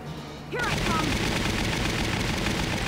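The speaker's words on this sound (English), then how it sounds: "She's a very loud gun." Heavy gunfire in the Valkyria Chronicles war video game, a sudden loud burst that becomes a dense, sustained roar of rapid shots after a brief quieter moment with a short voice.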